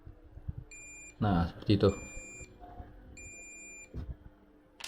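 Tester on a faulty 8586 hot-air soldering station emitting a high, steady electronic beep when a magnet is brought near the part, sounding in two separate stretches while someone speaks briefly close by.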